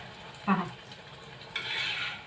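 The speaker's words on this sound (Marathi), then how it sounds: "अगदी डार्क गोल्डन रंगावर आपण हे तळून घेत आहोत" Sorghum (jowar) vadas fry in hot oil, a short bubbling sizzle heard up close with a brief clink of a utensil before it.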